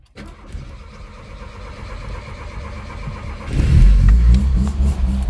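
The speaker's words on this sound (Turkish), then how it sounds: "Gaz veriyorum çünkü stop ediyor yoksa" A Tofaş Şahin engine with a leaking exhaust runs unevenly, then revs up hard into a loud, rough roar with deep rumbling, heard close up without talk.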